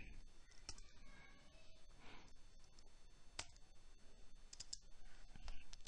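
Faint computer mouse and keyboard clicks while copying text, scattered sharp single clicks with a few quick pairs over a quiet background.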